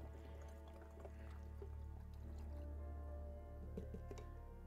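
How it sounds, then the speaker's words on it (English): Water is dumped out of a water bottle, giving a continuous low gurgle and splashing pour with a few drips and squishes, close and fairly quiet. "I'm dumping out my water."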